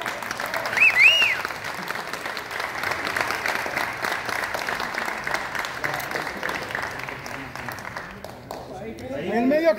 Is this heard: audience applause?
yes